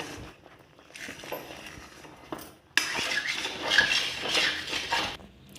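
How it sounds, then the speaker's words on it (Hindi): Ginger candy mixture being stirred in a very hot kadhai: scraping, clattering spoon-on-metal sounds, quieter at first, then louder and more continuous from the midpoint, with no voices. "इसे अब मैं थोड़ा हिला दूंगी, पहले इसलिए हिला रही हूँ क्योंकि यह नीचे से जमे ना, क्योंकि अभी कढ़ाई बहुत गर्म है"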